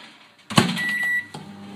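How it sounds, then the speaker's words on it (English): A microwave oven hums briefly while melting dark chocolate and butter, with a clunk as it starts and faint tonal whines over the steady drone. "And I'm going to melt this in the microwave now."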